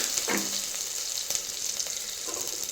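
Tomato, garlic and ginger sauté in oil with mustard seeds in a clay pan, giving a steady close hiss with a few brief stirring scrapes and clinks.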